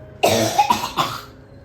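A single harsh cough breaks into two or three quick, rough bursts, close and fairly loud, then fades to quiet.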